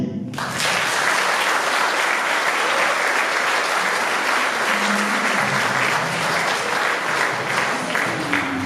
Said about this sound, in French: la troupe, nous vous applaudissons